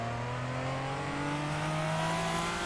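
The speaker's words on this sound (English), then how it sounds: "it has a wonderful turbo sound" A stripped-out, race-prepared Toyota Supra A80 in Assetto Corsa accelerates hard. The engine note climbs steadily with turbo whine layered on top, loud and close throughout with no speech.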